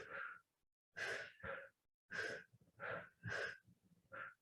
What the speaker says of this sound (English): This is a good place to do breath of fire.